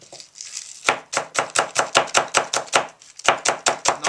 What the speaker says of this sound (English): I'm chopping a cilantro.